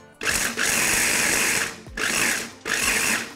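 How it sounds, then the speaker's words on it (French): Blender whirring as it mixes a spice blend of ginger, smoked paprika, chili powder and salt, running in three loud bursts with short pauses between, close and alone. "Et maintenant, je vais mixer."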